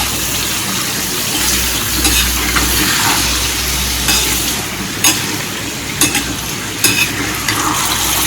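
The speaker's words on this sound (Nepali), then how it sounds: "मैले चाहिँ यसरी मजाले बिचमा चलाउँदै यसरी चाहिँ मासुलाई चाहिँ मजाले पकाइरहेको छु पाक्ने गरेर" Chunks of meat fry loudly in a pan while being stirred, a dense close sizzle with repeated scraping pushes and knocks of the spoon, no talking.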